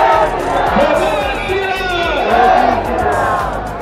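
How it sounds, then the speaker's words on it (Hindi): A large crowd at the Ram Raj Mandir temple in Dhanbad chanting Jai Shri Ram, loud and close, with voices rising and falling in unison over general crowd noise. "जय श्री राम के नारों से गूंज उठा भाई पूरा"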